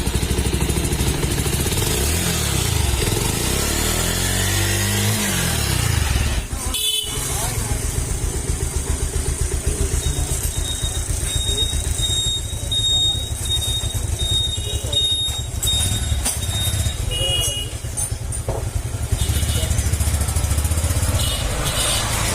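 A Bajaj Pulsar 150 TD motorcycle engine starts after adjustment and runs steadily, a loud continuous idle with a brief sharp burst near the start, while people talk over it.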